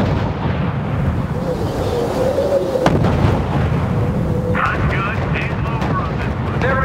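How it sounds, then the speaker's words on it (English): Artillery fire in the real-time strategy game R.U.S.E. shows as heavy booms and bursts over a rumbling battlefield, with radio-style voice lines heard over the combat. "Unit under sustained fire."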